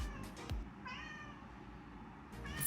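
A talkative cat meows in a drawn-out, wavering call, close and fairly loud, with softer chirps at the start and another meow beginning at the end.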